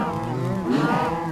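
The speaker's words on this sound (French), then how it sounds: "Donc là on voit les vaches qui crament." Minecraft cows burning give one drawn-out, low, close moo that fills the whole moment, with nothing else heard alongside it.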